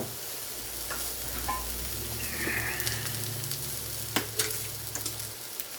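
Toasted sesame oil sizzling in a hot pan while cooking an Asian-inspired pig tail soup: a steady, close crackling hiss with a few sharper pops near the end and no talking.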